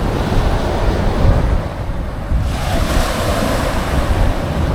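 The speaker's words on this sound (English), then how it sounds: "Wind's got up a little bit as well" Wind gusts and breaking surf at Kilnsea beach on the UK's East Coast roar loudly and continuously, with rough wind buffeting the microphone and washing waves underneath, no voices present.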